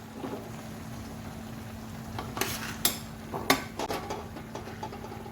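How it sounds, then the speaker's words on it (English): Vegan sausage and sweet potato casserole being served into a dish, heard as a few close spoon scrapes and sharp utensil clinks against the cookware over a faint background hum, with no talking. "I'm going to dish that out into here."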